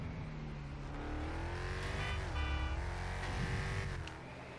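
A truck engine drones steadily while driving in the GTA 5 video game, loud and continuous with shifting revs and a brief rise in pitch midway, no voices over it.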